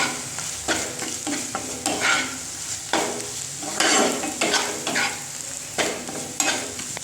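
Spice paste sizzling in oil for prawn malai curry, stirred and scraped repeatedly with a spatula, giving loud, close frying hiss and rhythmic strokes.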